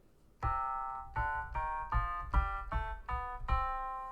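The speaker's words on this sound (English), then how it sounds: "the melodic minor scale, I'm gonna be honest, is a very weird scale" A melodic minor scale played note by note on a keyboard-like instrument, about eight evenly spaced notes stepping in a steady rhythm, clear and alone.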